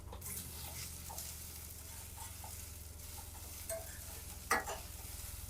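Cloves and black pepper frying and browning in a pan, a soft continuous sizzle with a few stirring scrapes and small clinks, quiet and without talk.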